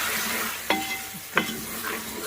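Spices sizzle in hot oil while being stirred for a Punjabi chicken pulao, with two sharp scraping stirs standing out over a steady, close frying hiss.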